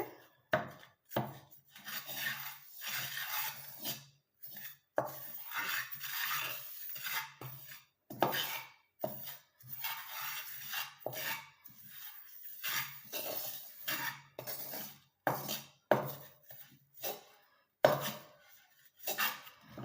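A stone pounds roasted herbs into powder inside an iron pan, producing sharp irregular thuds and scraping knocks in quick bursts separated by short pauses, close and clear with no talking.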